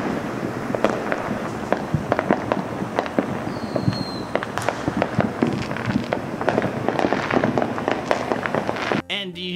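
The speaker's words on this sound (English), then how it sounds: "Fireworks with a rapport, i.e. anything with a boom" Fireworks crack and pop in dense, irregular volleys through early July nights in Chicago, with some sharp, close bangs over a constant crackle that lasts the whole time.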